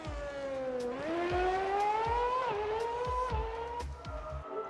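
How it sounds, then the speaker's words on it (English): A 2010 Red Bull Formula 1 car with a V8 engine at a demonstration run, its high-pitched engine note rising and falling through repeated gear changes, loud and close. "footage from earlier today of the demonstration of one of the all-time great V8 cars, the 2010 Red Bull, that won Sebastian Vette"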